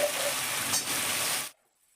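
Dried potatoes drop into hot spice paste in a pan, setting off a loud, steady close sizzle of frying that runs for about a second and a half and then cuts off into near silence.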